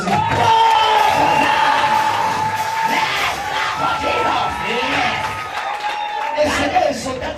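Church congregation at a prophetic worship service cheering and shouting acclaim for Jesus, a loud sustained crowd roar with whoops and yells, continuous and close throughout.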